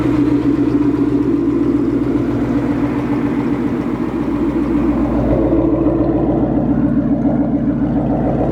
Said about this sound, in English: The car is up and running.